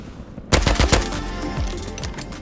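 Attack helicopter in the survival game Rust opening fire: a rapid burst of loud, close gunshots starting after a brief lull, followed by continued scattered shots and rumbling, with no talking.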